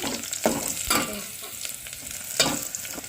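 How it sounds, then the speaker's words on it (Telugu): Onions fry and sizzle in a pan as they are stirred, with a steady hiss broken by several sharp scraping strokes of the spoon, close and fairly loud. "ఆనియన్స్ బాగా ఫ్రై అయినాయి"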